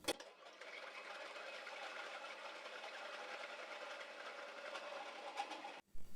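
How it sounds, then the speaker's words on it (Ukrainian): Electric hand mixer whipping egg whites with a pinch of salt into a light foam, a steady continuous whir lasting several seconds, close and fairly loud, then cutting off abruptly near the end. "До білків додаємо дрібку солі і збиваємо легку піну."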